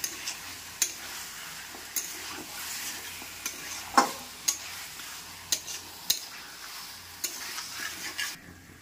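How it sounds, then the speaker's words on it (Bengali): Spiced chicken sautéing in a kadai over a medium gas flame, a steady soft sizzle broken by repeated sharp scrapes and clinks of a spatula stirring against the pan, close and moderately loud with no talk. "দিয়ে এবার মিডিয়াম ফ্লেমে আমি এটা কষাতে থাকবো"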